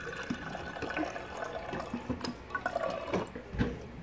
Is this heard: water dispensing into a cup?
yes